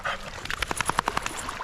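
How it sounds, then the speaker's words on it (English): Puma, a friendly female dog on a beach in Koh Samui, lets out a quick run of short, close whimpers and yips in a rapid broken rhythm, with no other sounds around her. "she's such a friendly doggy"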